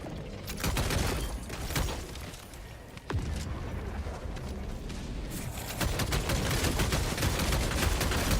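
Rapid sustained gunfire from a weapon in the video game Helldivers 2, loud bursts of shots running almost continuously through the clip with a brief dip before resuming, set on a snowy planet amid a blizzard.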